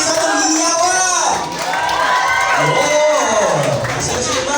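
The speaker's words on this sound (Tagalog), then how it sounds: "bigyan natin siya ng isang mainit at masigabang palakpakan. Medyo mahina na kami ng isang hiyawan." Live crowd at a company event roars with cheering, whoops and children's shouts, loud and continuous throughout, swelling in waves after a call for applause.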